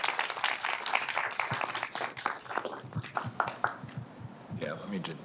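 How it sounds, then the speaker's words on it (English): Scattered clapping from participants at a staff roundtable discussion, sparse and fairly quiet, with voices talking over it. "suggest that we give each other a round of applause"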